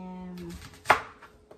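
A large onion is chopped on a board, with a few knife strikes: one sharp loud chop near the middle, then fainter taps after a brief low hum fades out.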